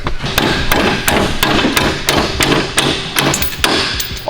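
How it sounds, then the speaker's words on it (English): Hammer blows ringing against a metal S13 steering knuckle on a Nissan S13 coupe, a dozen or so sharp, loud strikes in a fairly steady rhythm, close by and without talk. "Let me get a damn hammer."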